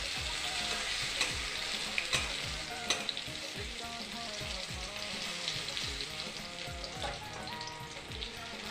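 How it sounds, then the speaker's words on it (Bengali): Cauliflower fritters in gram-flour batter deep frying in oil, a loud continuous crackling sizzle up close, with faint stirring taps and no voices. "আস্তে আস্তে ভালো করে ভেজে নেব বড়াগুলোকে"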